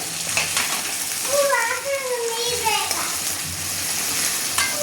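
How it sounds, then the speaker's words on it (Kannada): Onions fry in a pan for a North Karnataka chickpea usal, giving a continuous close sizzle with occasional stirring, while a voice is briefly heard over it partway through. "ಹಾಗೆ ಇವಾಗ ಈರುಳ್ಳಿ ಫ್ರೈ ಆಗ್ತಾ ಇದೆ"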